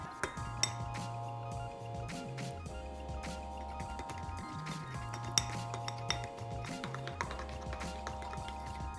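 A whisk clinks against a bowl while mixing a thick powdered sugar glaze for vegan fried doughnuts. Rapid, irregular metallic taps and rattles sound close over a steady background hum.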